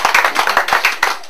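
A church congregation claps in praise, a quick, steady rhythm of about a dozen sharp, loud, close hand claps with no voices over them.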